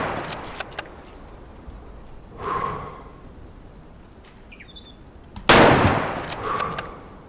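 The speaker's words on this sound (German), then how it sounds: "aber ich muss schießen jetzt" In the hunting game Way of the Hunter, a single loud rifle shot cracks out late in the clip and echoes away over quiet outdoor ambience. A softer whoosh and a few light clicks come before it.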